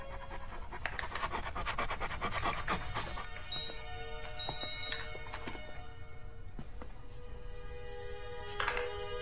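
Nikki, a colonel's female dog, pants steadily and rapidly throughout, with a continuous rough breathing texture close by, joined by a few brief tonal whines and squeaks.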